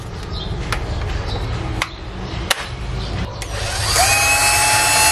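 A power drill that had been flooded and then repaired runs on battery power. It gives a steady, fairly loud motor whine that rises in pitch and intensity toward the end, with a few brief clicks along the way. No one speaks.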